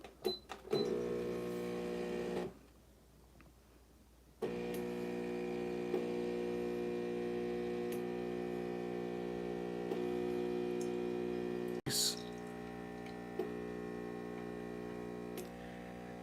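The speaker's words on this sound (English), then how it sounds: "Let's go ahead and get that shot pulled." An espresso machine pulls a big double shot, a steady pump hum with a buzzing tonal whine that drops out briefly and resumes, with faint clicks and a sharp knock near the end.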